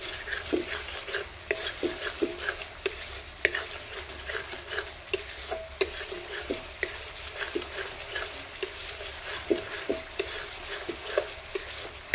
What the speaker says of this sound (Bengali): ভালো করে মশলাটা কষতে হবে।